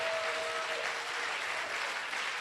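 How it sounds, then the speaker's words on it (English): A church congregation claps hands during a prophet's sermon, a steady wash of applause that fills the whole short stretch at a fairly even level. "you can clap those hands."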